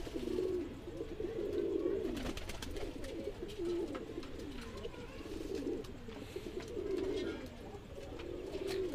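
Pigeons coo continuously in soft, rolling bursts, several birds overlapping at close range with steady background rustle; the birds are Madrasi pigeons.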